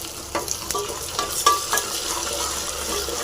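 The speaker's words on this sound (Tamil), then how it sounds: "நல்லா ஃப்ரை ஆகிடுச்சிங்க." Onion and peeled garlic frying in oil with salt and popped mustard seeds for vegetable sambar, a close, steady sizzle with several sharp stirring clicks and scrapes.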